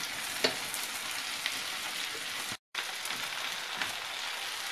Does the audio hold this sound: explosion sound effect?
no